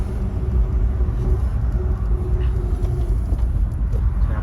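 Steady low engine rumble and road noise of a car driving smoothly after repair, heard from inside the cabin, continuous and even with no clear knocks or vibration.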